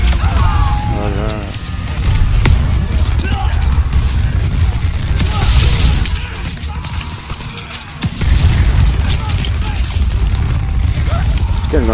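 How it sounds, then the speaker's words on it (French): Battle sounds from the World War II shooter Call of Duty WWII: a roaring flamethrower and bursts of gunfire and booms, loud and dense throughout, with a voice speaking over the din. "Putain, le lance-flamme, ça fait des dégâts."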